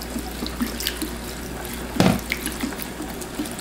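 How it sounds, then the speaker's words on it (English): Water runs steadily from a kitchen faucet into a pot of oatmeal, a soft continuous splashing stream with one louder splash midway, with no talking. "And the next thing I'm gonna do is pour myself some water."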